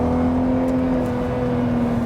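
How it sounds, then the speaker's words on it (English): A Mark 4 VW Golf R32 with a naturally aspirated engine accelerates, giving a loud, steady engine drone with a smooth sustained tone heard from inside the car, alone with no voices. "It's at the same time really a rather harmonious acceleration from the naturally aspirated"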